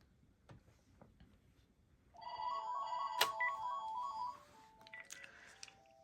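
A Panasonic DECT cordless phone extension rings after the baby monitor handset picks up sound: a few faint clicks, then a near electronic ringtone of rapid warbling tones for about two seconds, a sharp click, and softer tones trailing off.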